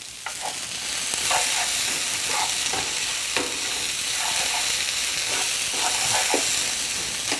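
Garlic and onion sauté in a pan with a loud, steady sizzle, joined throughout by scraping and clicking as the pieces are stirred.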